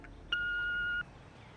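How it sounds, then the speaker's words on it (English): A single clean electronic beep, held for under a second, sounds alone against faint background hiss. "Please leave a message for me or Tony after the beep."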